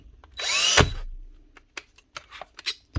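A DeWalt cordless drill in drill mode whirs in a short, loud burst lasting under a second, followed by scattered clicks and handling noises.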